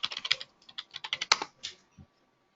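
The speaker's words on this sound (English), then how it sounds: "we could actually go to type in our username and password" Username and password typed on a computer keyboard: a quick run of close, crisp key clicks in uneven bursts, ending with a single heavier keystroke.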